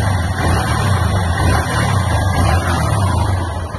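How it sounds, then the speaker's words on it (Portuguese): A Honda CG 150 Titan Sport motorcycle from 2008, in well-kept condition, idles steadily up close with a continuous low, even engine drone and no talking. "Olha aí o motorzinho dessa moto."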